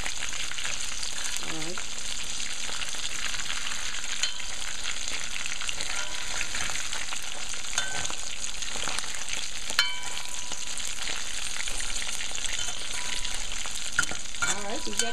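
Smelt frying in a pan with curry masala, a steady close sizzle and crackle with occasional stirring scrapes, while a voice speaks briefly near the start.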